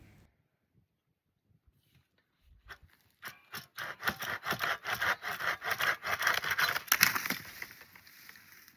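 Tree branches cut with a manual limbing saw, near and fairly loud, a rapid rhythmic rasping of back-and-forth strokes that begins after a quiet opening and runs steadily to the end.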